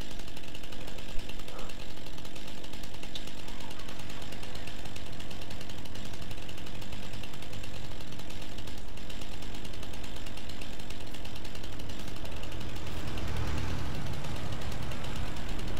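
A chainsaw in the video game Farming Simulator runs as a steady, loud mechanical drone through the whole stretch, a constant engine buzz with a rougher, louder surge near the end and no voices.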